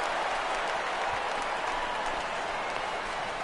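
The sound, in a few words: baseball stadium crowd reacting to a fly ball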